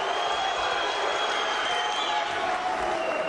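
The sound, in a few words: crowd cheering at MMA fight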